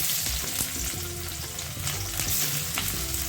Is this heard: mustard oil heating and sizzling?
yes